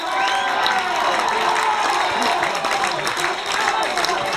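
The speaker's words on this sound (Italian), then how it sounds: "Sentite gli applausi scroscianti da parte del pubblico" Crowd applause at an amateur rugby match, steady rolling clapping mixed with cheering from the stands, a sustained wash of sound at a constant distance, with a commentator's voice faintly under it.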